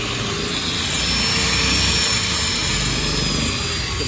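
A buffing machine working a motorcycle megaphone exhaust during a restoration, a loud continuous high-pitched motor whir and rushing hiss holding steady throughout with no voices.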